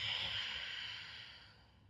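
A single long breath pushed out through the nose and mouth during a resistance-band neck exercise, close and airy, fading away over about two seconds with no talking.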